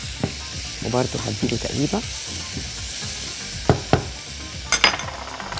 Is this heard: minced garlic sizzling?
yes